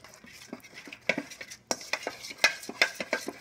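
Quail marinade being mixed with thyme and garlic, a series of irregular wet clicks and utensil taps against a bowl, close and moderately loud with a faint sizzle underneath.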